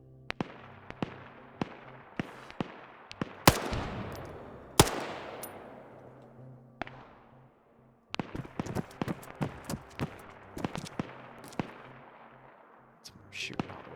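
Sharp gunshots in the video game Escape From Tarkov, single and clustered cracks with ringing tails, some loud and close, others quicker and lighter, spread irregularly across the stretch with a short pause midway.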